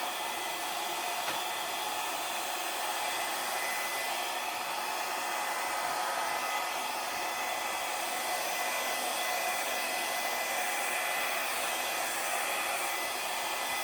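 A hair dryer blows steadily across acrylic paint in a Dutch pour, a continuous close, loud whooshing whir that never pauses, with no talking.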